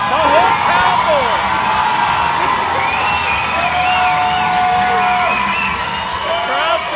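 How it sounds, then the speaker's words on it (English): Loud hockey arena crowd cheering and whooping continuously at a charity game in Weymouth, a dense roar with shouts and whistles rising over it throughout. "The crowd's going wild for Charlie Coyle."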